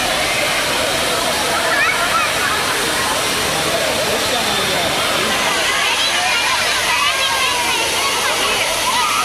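Kovai Courtallam waterfall pours down in a constant, loud, broadband roar and splash, while a voice talks steadily over it the whole time.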